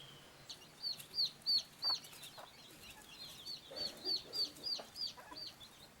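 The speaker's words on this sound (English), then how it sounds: "it's nice to see hens able to roam freely around the gardens" Free-roaming hens in manor gardens give a run of soft clucks and short calls in quick clusters, fairly close but not loud, against a quiet outdoor background with no talk.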